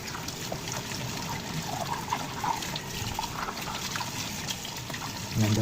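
Running water rinses out a soap dish, a steady trickling and splashing flow with small clinks, close and moderately loud, that swells briefly at the end.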